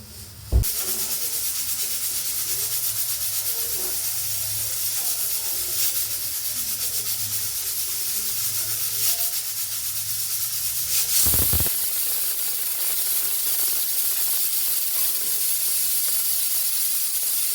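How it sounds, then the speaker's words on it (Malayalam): A pressure cooker whistles and releases steam while cooking green gram payasam: a steady, loud hiss runs throughout, with a couple of brief sharp bursts and faint clatter near the start and middle. "കുക്കർ അടിച്ചിട്ടുണ്ട്."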